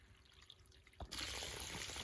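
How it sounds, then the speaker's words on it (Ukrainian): Water pumped out of a well, starting as faint trickling and then suddenly switching to a steady, loud rushing gush of water. "А чому ми сюди викачуємо воду?"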